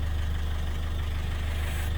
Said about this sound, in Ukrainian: Доки провода підкинуті, доки двигун працює.